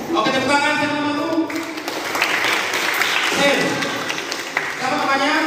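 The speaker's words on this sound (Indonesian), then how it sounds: "Oke, tepuk tangan siapa dulu?" Audience applause at a school Christmas sermon, a sustained crowd of clapping hands filling the middle of the stretch, bracketed by a voice talking before and after.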